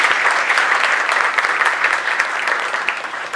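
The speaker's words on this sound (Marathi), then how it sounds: "या जोडीसाठी एकदा जोरदार टाळ्या झाल्या पाहिजे" An audience at a multilingual poetry gathering claps in a dense, steady round of applause that stays loud for the whole stretch.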